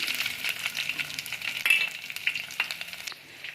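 Dried red chillies and garlic sizzle and crackle steadily in hot tempering oil, close and moderately loud, with faint stirring and a few brief metallic taps.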